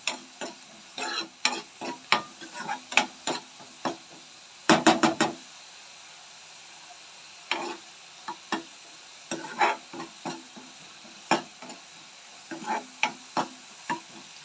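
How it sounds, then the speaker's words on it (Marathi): Ground masala paste being stirred and fried in oil for a jackfruit curry, with a scraping spoon knocking the pan in scattered irregular strokes over a faint steady sizzle; no talk. "मी इथे दोन ते तीन मिनिट वाटण तेलामध्ये परतून घेतलेलं आहे"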